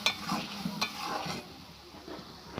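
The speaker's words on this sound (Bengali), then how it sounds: "ভালো করে আমি দিয়ে কষে নেবো যতক্ষণ না মশলা থেকে তেল ছাড়ছে" Spices with ginger, garlic, onion and tomato stir-fried in a pan for a Bengali katla fish kalia, a soft steady sizzle with a few scraping stirs early on, fading lower toward the end.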